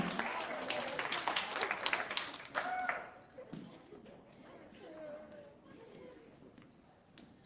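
A crowd at the Morgan Park High School 8th-grade luncheon gives a dense burst of applause for honor roll students, then the clapping thins out after about three seconds into a quieter room with scattered voices.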